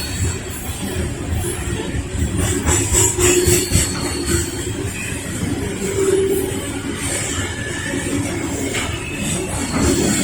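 CSX eastbound coal train rolling through downtown Lynchburg, Virginia, a steady rumble of railcars and wheels with faint squeals and clacks, fairly close and continuous throughout.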